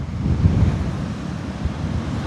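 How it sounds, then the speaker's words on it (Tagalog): Sea surf rolling onto Saud Beach in Ilocos Norte, a steady broad wash of waves mixed with gusty wind buffeting the microphone, loud and continuous with no talking. "Tapos kapag naririnig nyo yung dagat, ayun o."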